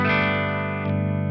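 A sustained, overdriven electric guitar chord through the boost side of a Thorpy FX The Dane pedal rings out thick and buzzing, slowly decaying with a slight wobble.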